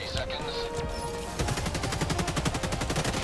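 Rapid machine-gun fire from a video game, a fast steady stream of sharp shots that kicks in after a brief stretch of other game noise and keeps hammering loudly to the end, with a voice talking over it.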